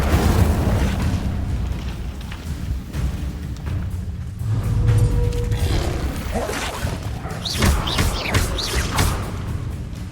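A fire spell cast in a wizarding game, a burst of flaring, crackling magical fire with booming impacts, loud and layered over busy game sounds and a rumbling low end.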